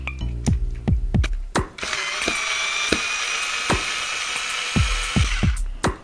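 A Pretec screw gun backs a screw out of wood: several sharp clicking ratchet bursts, then a long steady high motor whine, then more clicks near the end, loud and close with no talk.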